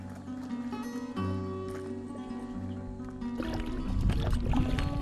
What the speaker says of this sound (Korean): 이제는 노를 저어 건너야 하는 강